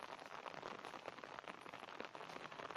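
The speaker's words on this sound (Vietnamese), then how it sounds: "Rồi, hôm nay mưa quá. Mưa quá trời luôn, không thấy luôn á." Heavy rain pours over a village as a steady, dense hiss with scattered drop patter, faint and distant-sounding with no talk.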